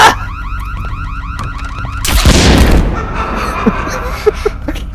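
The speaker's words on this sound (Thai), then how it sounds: "เมื่อกี้นี่คือหน้ากากระเบิดนะ" In the horror video game Shadow Corridor 2, a mask explodes with a loud burst of noise over an ongoing wailing alarm-like tone, followed by lingering rumble and scattered clicks.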